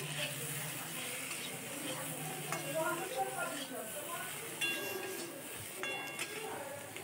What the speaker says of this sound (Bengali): কাশ্মীরি লঙ্কা গুঁড়ো দিয়ে বেশ নেড়ে চেড়ে ভেজে নেব কাঁঠালের বীজগুলোকে